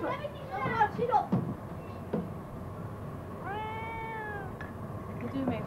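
A cat meows clearly in one drawn-out call midway, with a few shorter vocal sounds and human talking around it indoors.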